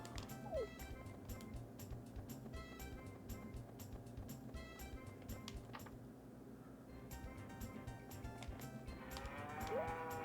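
A cow in Harvest Moon 64 moos repeatedly against a steady bed of game music, with light clicking mechanical game sounds in between.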